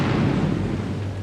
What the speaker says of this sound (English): At 5 o'clock, the explosives were detonated.